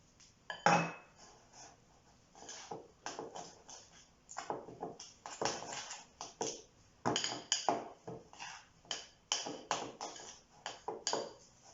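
Gnocchi dough of flour and egg yolk being mixed in a bowl, a utensil clinking and tapping against the bowl in irregular bursts of clatter, close by, with quiet gaps between strokes.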